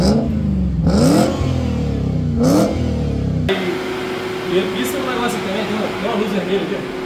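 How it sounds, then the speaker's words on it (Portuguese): A 2007 Volvo S80 with the 4.4 V8 engine revs in a few rising bursts while driving, then settles into a steadier cabin drone with road noise. "agora falta dar uma volta com esse V8"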